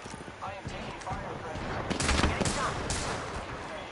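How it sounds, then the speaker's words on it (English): Gunfire in Apex Legends, a rapid, continuous rattle of shots that swells louder midway over a steady game din, with a voice speaking over it. "I am taking fire"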